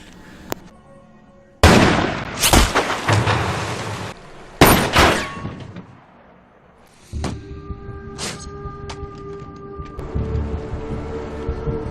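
Rifle shots from a film crack out in several sharp, loud bursts, two or three close together, then separated by quieter stretches with faint background noise and a low hum.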